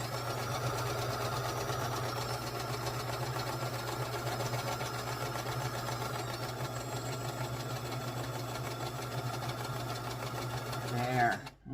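A sewing machine hums steadily as it stitches a quarter-inch quilt seam, a continuous close mechanical drone with a rapid needle rhythm that runs unbroken for almost twelve seconds, then stops with a brief rustle at the end.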